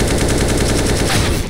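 Rapid automatic gunfire from a first-person shooter video game, a dense, loud, continuous burst of shots that cuts off near the end.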